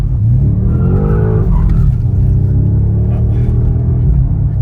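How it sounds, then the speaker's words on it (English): A BMW M5 G90 sports car spins its wheels and slides sideways, with a loud, close engine roar and a rising tire squeal that sweeps upward and then settles into a sustained droning howl. "Likes to go sideways, you can feel it already a little bit. Now you have wheel spin in every gear until the 4th gear"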